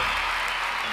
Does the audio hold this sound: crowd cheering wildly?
yes